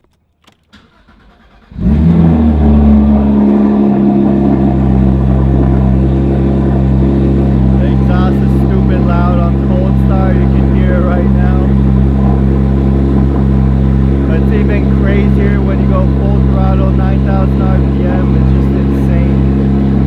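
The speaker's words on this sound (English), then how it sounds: "I'll just show you guys a cold start right now on this one" A Porsche 911 GT3 fires up from cold: after a few faint clicks the engine catches with a sharp bark and settles into a loud, steady high idle, with a voice speaking over it.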